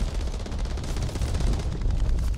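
Video-game gunfire in Call of Duty: Warzone during a Godzilla vs. Kong event, a dense rumbling barrage of rapid shots and booms, continuous and heavy throughout, with no clear talk.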